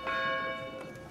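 A single church bell in Age of Empires IV strikes once, its bright ringing tone decaying over about a second at a faint level, alone.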